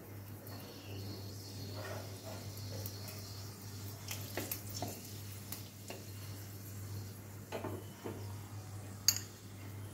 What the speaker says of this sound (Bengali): কড়াইতে সর্ষের তেল গরম হয়ে গেছে। প্রথমে শুকনো লঙ্কা দেব।